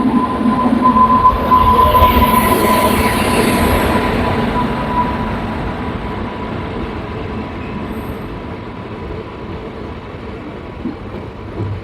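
A train rolls through Dayananda railway station, a loud, steady rumble of wheels and carriages that stays close throughout with a faint tonal squeal early on, and no voices.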